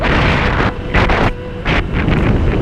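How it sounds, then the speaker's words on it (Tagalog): Strong gusts batter the microphone, producing loud rumbling buffets that surge and ease in waves. "Sobrang hangin."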